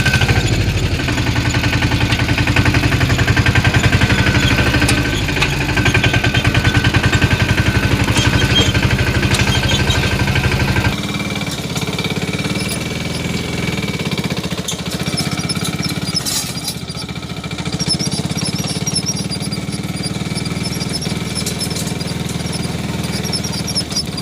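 A tractor engine runs steadily and loudly close by, a dense rattling chug that shifts to a lower, rougher idle partway through, with no talk over it.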